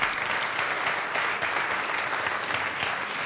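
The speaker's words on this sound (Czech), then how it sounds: "Ondra Bystřický, pojď mu zatleskat, díky moc." An audience at a live stage event claps continuously for a departing guest, a steady, even wash of applause heard close and without talk.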